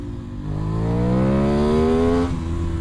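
A modified sport motorcycle revs hard in first gear, its engine note climbing steadily in pitch for about two seconds before a brief dip, loud and close with the front wheel lifting under power.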